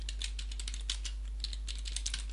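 Fast, steady typing on a computer keyboard, a dense run of close, crisp key clicks filling the whole stretch with no talk over it.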